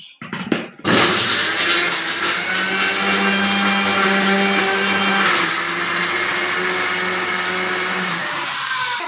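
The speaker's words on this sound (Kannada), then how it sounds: "ಟೊಮೆಟೊನ್ನು ಗ್ರೈಂಡ್ ಮಾಡಬೇಕು" An electric mixer grinder whirs loudly as it grinds tomatoes, starting abruptly after a few brief knocks and holding a steady high-pitched whine for several seconds before stopping.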